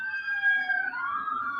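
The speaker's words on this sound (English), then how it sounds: "sorry about the sirens in the back." Emergency vehicle siren wailing steadily in the background, a sustained rising and falling tone heard from a distance, moderately loud and alone.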